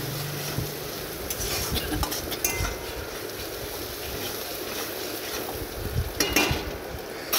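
Khichuri being stirred in hot oil in a pot, a low crackling sizzle with uneven scraping and knocking of a utensil against the pot, moderately close and unaccompanied by speech.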